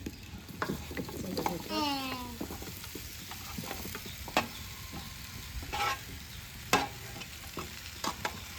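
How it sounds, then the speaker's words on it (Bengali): Mango pieces for mango pickle hiss and sizzle in a hot wok over a clay stove, with scattered scraping stir clicks and a brief squeak, no voices. "আম দেওয়া হচ্ছে কড়াইয়ে।"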